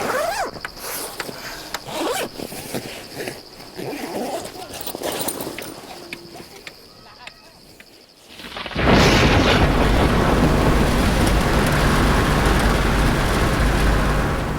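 A thunderstorm in Mundari country in Africa, with clattering and rumbling that gives way to a sudden, loud, steady roar of heavy rain lasting several seconds, close and enveloping.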